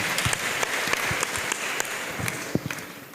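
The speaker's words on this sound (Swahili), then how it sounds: "Tupige makofi tafadhali." An audience at a young entrepreneurs programme event claps in a scattered, moderately close round of applause with no talk over it.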